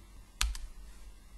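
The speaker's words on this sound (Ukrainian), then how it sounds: "натискаєте латинську букву R на клавіатурі" Keys pressed on a computer keyboard while drawing a wall in Archicad: two quick, crisp clicks close together, fairly loud against a quiet background.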